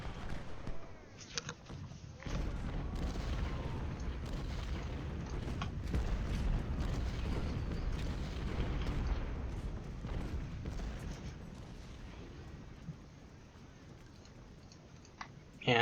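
Continuous battlefield rumble of artillery fire in the Ultimate General: Civil War video game at Gettysburg, deep low booms blending into a sustained roar with scattered clicks, fairly quiet and far-off.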